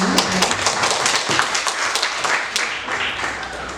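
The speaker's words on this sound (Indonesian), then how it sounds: "Tepuk tangan" Applause from a school audience during a supervisor's observation event at SMAN 1 Kupang, a dense steady patter of many hands clapping at moderate distance, with a brief voice near the start.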